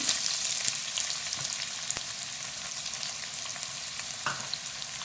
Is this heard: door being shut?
no